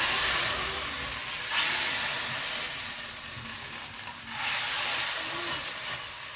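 Yellow lentils cooking in a pot give off a loud steady steamy hiss, with bursts of stirring that swell twice and then settle, and no voices.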